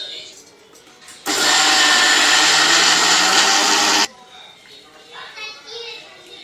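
A wet grinder grinds soaked urad dal with ice water. It gives a loud, steady whirring for about three seconds, with quiet voices before and after.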